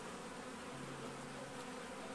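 Honeybees buzz steadily around a top bar hive, a continuous, fairly close droning hum with no voices.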